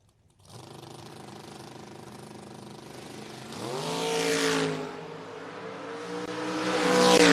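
A drag race at the No-Box 660 Shootout with a Camaro and another car, engines droning at a distance before climbing in pitch as they rev and accelerate hard, swelling louder at the end.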